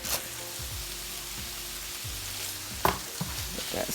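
Crisping potatoes for a roasted chicken hash fry in hot oil with a steady sizzle, broken by a few scraping stirs of a utensil across the pan.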